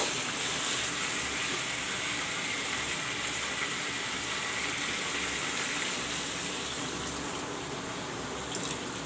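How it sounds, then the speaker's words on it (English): Water poured into a pan of fried chicken for a jhol curry, a steady rushing gush that lasts several seconds with no speech, close by. "Now I will add some water."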